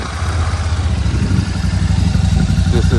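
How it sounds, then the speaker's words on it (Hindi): A Royal Enfield Shotgun 650 motorcycle idles with a deep, steady thumping exhaust beat, loud and close, with a faint metallic clatter over the low pulse. "आप सुनाते हैं आपको इस बाइक का थंप एग्जॉस्ट नोट"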